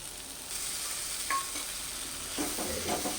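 Spice paste sautéing in hot mustard oil for a ripe jackfruit seed dish, a steady close sizzle with occasional scraping stirs and a brief utensil clink.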